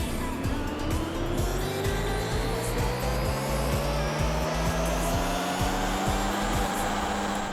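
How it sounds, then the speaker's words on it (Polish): A Jaguar F-TYPE in the Car Mechanic Simulator 2021 video game runs on a dynamometer, its engine revving continuously and climbing steadily in pitch through the gears with a loud, sustained whine and periodic shift blips. "Przechodzimy na hamownię i zaraz zobaczymy jaką to ma moc."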